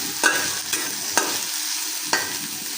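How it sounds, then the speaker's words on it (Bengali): Onion, green chili and garlic fry in a pan with a steady, close sizzle, broken by four sharp scrapes of stirring. "এখন সেটা ভাজা হচ্ছে"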